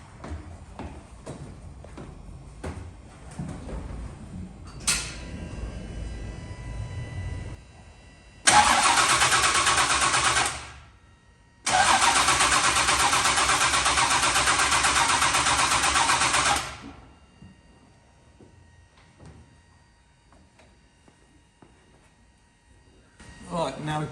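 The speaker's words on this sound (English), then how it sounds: "So I'm going to turn it over, build the oil pressure up" A monster truck engine is cranked over to build oil pressure, two long loud bursts of steady starter churning separated by a short pause, with talk and workshop sounds before and after.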